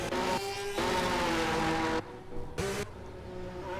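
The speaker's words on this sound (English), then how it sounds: "And I heard another car come out." A racing car engine drones loudly at steady revs as the car leaves the pits, then cuts and shifts tone briefly before the engine sound returns, close by, in a racing video game.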